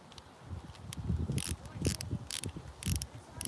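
A spinning fishing reel being tightened back down during maintenance gives off repeated bursts of close ratcheting, gear-like clicks in an uneven rhythm, with soft handling noise between them.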